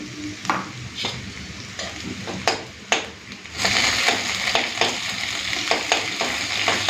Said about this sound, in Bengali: দুটো শুকনো লঙ্কা দিচ্ছি দিয়ে দেবো পাঁচফোড়ন এগুলোকে একটুখানি ভাজা ভাজা করে নিয়ে